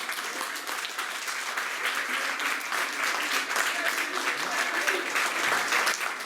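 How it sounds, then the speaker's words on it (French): An audience at a live show gives a sustained round of clapping, dense and steady for several seconds, with scattered voices mixed in beneath. "Je vous demande de leur faire un tonnerre d'applaudissements."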